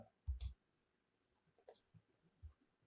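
A computer mouse clicks on an add-to-order button in an online seller dashboard: a pair of crisp, close clicks, then a few softer taps in an otherwise quiet room.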